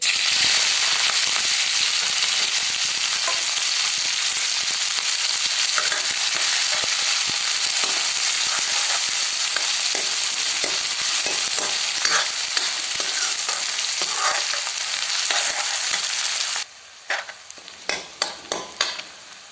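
Chopped onion and green chili fry in hot oil for a whole green moong dal, a loud steady sizzle with stirring scrapes, cutting off near the end into a few sharp spatula knocks, no talk.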